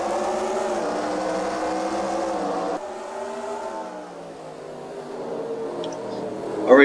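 Race cars in NASCAR Racing 2003 circle Martinsville, their engines a steady buzzing drone that shifts pitch as they go through the corners and down the straights, loud and continuous.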